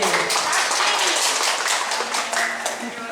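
An audience at a welcome gathering for special Hajj pilgrims applauds the ladies present, a crackling spread of many claps rising and fading over a few seconds, with a voice speaking faintly beneath.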